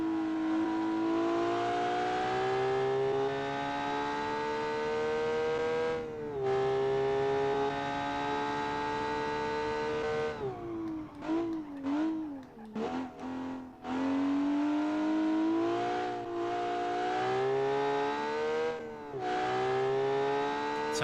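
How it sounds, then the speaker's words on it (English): A simulated car engine in the BeamNG driving game drones continuously with a strong harmonic whine, rising through revs, dipping and stuttering briefly mid-way during a shift or lift-off, then climbing again, loud and alone. "Sounds like a V6."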